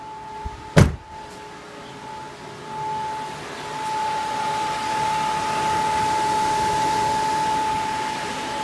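A click, then the radiator fan of a Toyota Land Cruiser 80 (LX450/FJ80) whirs up and keeps running as a steady, fairly loud rushing drone with a faint whine.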